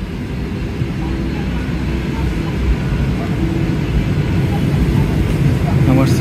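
Steady, loud roar of a US-Bangla Airlines Boeing airliner, heard from on board as it readies for a flight to Singapore, with a constant broadband hum and faint voices underneath.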